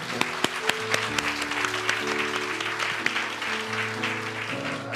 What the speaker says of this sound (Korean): 우리 하나님께 감사와 영광의 박수 드리겠습니다.